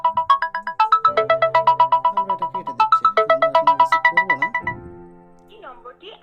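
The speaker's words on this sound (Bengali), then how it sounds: "হ্যাঁ, আপনারা দেখতে পাচ্ছেন ফোন চলে এসেছে" A mobile phone plays a bright, repeating electronic ringtone for an incoming call, loud and close, pulsing rhythmically for several seconds before it is cut off, with a voice faintly in the background.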